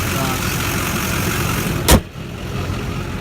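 A lowered 2001 Duramax diesel pickup with an aftermarket exhaust idles with a steady low rumble, with one brief thump partway through.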